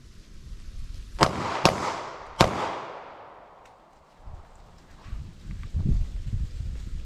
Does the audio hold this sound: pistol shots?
yes